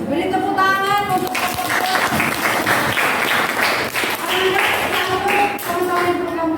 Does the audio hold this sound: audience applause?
yes